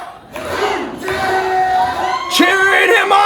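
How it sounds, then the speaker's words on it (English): A crowd at a live independent wrestling show roars and cheers loudly and steadily. Shouts and whoops rise over the sustained din of the audience. "cheering him on!"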